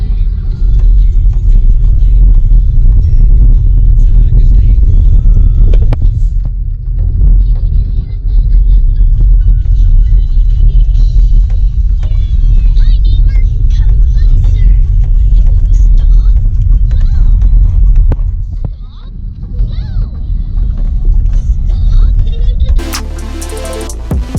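Inside a VW e-Golf electric car crawling slowly along an off-road dirt road, a continuous low rumble of tyres and body over rough ground fills the cabin, with voices talking over it.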